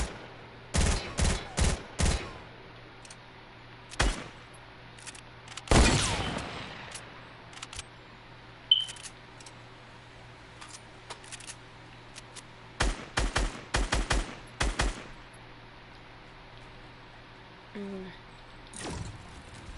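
Gunfire in a PS4 video game comes in sharp bursts of shots spread across the clip, separated by quieter stretches with a steady background hum, and includes one longer heavier blast.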